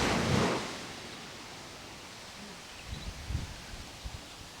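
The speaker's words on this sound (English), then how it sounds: "Can you hear the ebb, the flow of the tide, the waves as they gently lap upon" Gentle ocean waves lapping onto sand at a beach: a soft wash fades out early, then a steady hiss of surf with a few faint low splashes near the end, distant and quiet.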